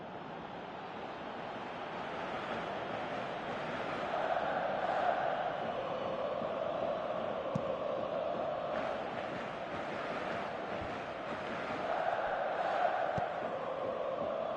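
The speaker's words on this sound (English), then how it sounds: "you can feel and hear how the crowd are reacting to all of this" A stadium crowd in a football video game on PS4 keeps up a steady roar that swells twice into louder surges, sustained and continuous with no clear talk over it.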